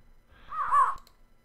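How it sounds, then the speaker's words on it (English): A raven caws once in the TerraFirmaPunk Minecraft modpack, a short harsh call rising and falling over about half a second, fairly close and clear against a quiet background. "Hey, Crow, how you doing? Or Raven, should I say."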